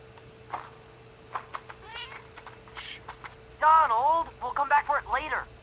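A house cat meows a few times indoors, one drawn-out call and then a quicker run of meows, near and fairly loud, over faint soft background noise.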